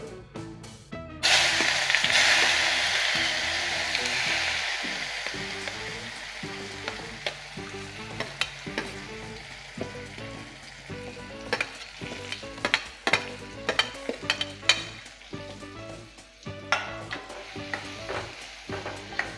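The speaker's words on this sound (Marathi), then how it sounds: "कांदा आणि टोमॅटो मऊ होईपर्यंत आपण परतून घेणार आहोत" Onion and tomato sizzle in hot oil with asafoetida and mustard seeds for prawn masala, an initial loud hiss easing into a softer fry, punctuated by repeated scraping and clinking of a spoon stirring the pan.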